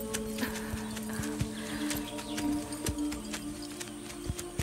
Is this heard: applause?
no